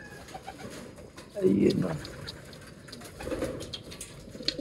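Pigeons coo in low, throaty bursts, one prominent call in the middle and a softer one after, heard close under intermittent talking in Filipino.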